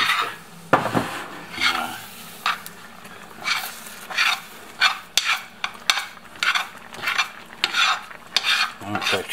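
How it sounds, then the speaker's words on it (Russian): Liver sausage gravy for pasta is stirred firmly in a pot, a spoon scraping and clinking against the metal in a rhythmic series of loud strokes, with wet bubbling underneath and no talking. "Вот так тщательно перемешиваем"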